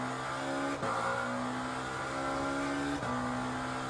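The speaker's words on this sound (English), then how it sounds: "the sound is underwhelming because all the cars, yeah, they sound very similar with their V8s" A V8 race car engine in a sim racing game holds a loud, steady drone with rising revs, broken twice by brief gear-shift dips before the pitch climbs again.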